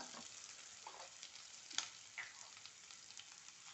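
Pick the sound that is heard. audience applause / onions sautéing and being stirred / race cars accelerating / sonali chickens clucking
onions sautéing and being stirred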